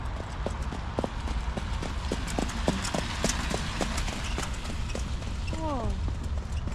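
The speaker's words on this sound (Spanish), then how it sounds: "acá están los caballos." Horses' hooves clip-clop on hard ground at a stable, a steady nearby run of sharp knocks over a constant background murmur, with a brief voice-like call near the end.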